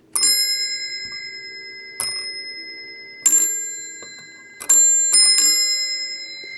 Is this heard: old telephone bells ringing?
yes